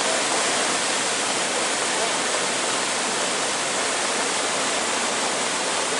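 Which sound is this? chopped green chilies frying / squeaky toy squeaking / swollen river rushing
swollen river rushing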